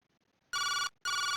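A telephone rings in the video game Jake Hunter Detective Story: two loud electronic bursts of ringing with a brief gap between them, alone and clear.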